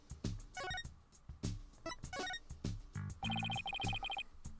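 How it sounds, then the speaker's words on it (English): A phone rings in the video game Phoenix Wright: Ace Attorney Dual Destinies, repeating an electronic ringtone pattern over game music and sound effects. "What was that phone call from?"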